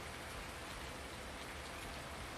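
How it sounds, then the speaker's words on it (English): Rain in Farming Simulator 19: a steady, dense hiss of falling rain, faint and even throughout, with no talking. "Done raining yet?"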